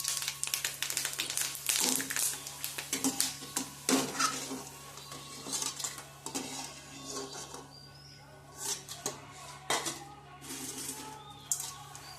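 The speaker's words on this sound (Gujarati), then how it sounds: "આપણી કાચરી આપણે જરૂર હોય એટલી તળી લીધી છે" Guvar kachri, dried cluster-bean crisps, fry in hot oil with a soft sizzle while a utensil stirs them. Busy scraping and metallic clatter against the pan come in repeated bursts, close up.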